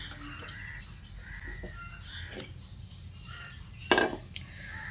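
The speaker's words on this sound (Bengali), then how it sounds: "এবার আমি এর মধ্যে আলু আর কুমড়োটা দিয়ে দিচ্ছি" Potato and pumpkin pieces go into a pot of masoor dal with a brief, close clatter and clink of metal cookware, followed by a smaller tap, against a low kitchen background.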